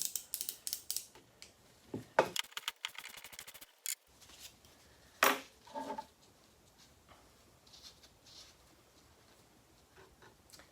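A strut nut on a Toyota 4Runner suspension is worked loose and removed, heard as close, intermittent ratcheting clicks and metallic ticks in short bursts with quieter gaps, no talking.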